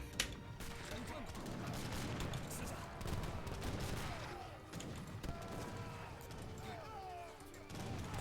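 Abus guns firing in a battle in Age of Empires III, a steady dense clatter of overlapping gun blasts and combat noise over several seconds, with voices talking underneath.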